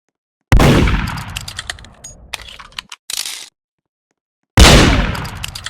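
Gunshots in the Roblox game Murder Mystery 2, played on mobile: a loud sharp shot rings out and decays, a few smaller clicks and cracks follow, then silence and a second loud shot near the end.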